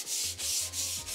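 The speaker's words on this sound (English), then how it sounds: "We're using the 220 grit sandpaper, so this is gonna be real smooth when we're finished." Sandpaper of 220 grit rubs back and forth over a butcher block wood countertop, a steady, close hiss in repeated strokes with short pauses between passes.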